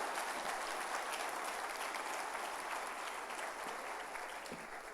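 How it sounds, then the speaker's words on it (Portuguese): Sustained applause from a large church congregation fills the whole stretch, steady and dense with many hands clapping at once, slightly reverberant as in a big hall. "Você pode dar uma salva de palmas para o Senhor Jesus?"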